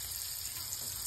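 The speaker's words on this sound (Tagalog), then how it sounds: "Sa ating hot pan, butter in." Butter sizzles in a hot pan for milkfish sisig, a soft, steady crackling hiss with no breaks, faint and close.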